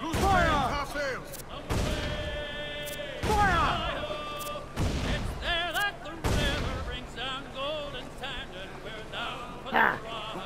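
A volley of ship's cannon fire in the pirate video game Assassin's Creed IV Black Flag sounds as a series of loud, deep booms spaced a second or two apart, with a sustained tone and shouting voices between the shots.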